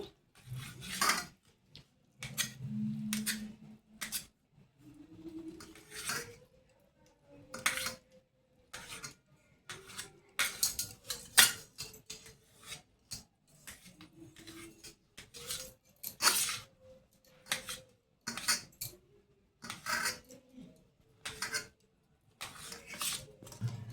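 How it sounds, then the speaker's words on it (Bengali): Knife cutting paneer into pieces on a board, a long series of close, short clicks and taps in an irregular rhythm, with quieter handling sounds between the cuts. "পনিরটাকে এরকম পিস পিস করে কেটে নিব।"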